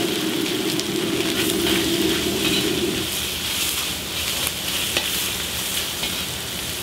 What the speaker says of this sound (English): I'll put a low heat stir fry them. This is a quick stir fry.